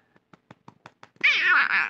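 A cat, audibly grumpy, gives a long, loud, wavering meow close up after a quick run of soft ticking clicks.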